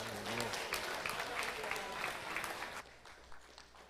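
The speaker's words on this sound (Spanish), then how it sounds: "Palmas para Cristo." A church congregation applauds in praise during a Spanish and Quechua service, dense sustained clapping that fills the room before stopping abruptly, with voices mixed in underneath.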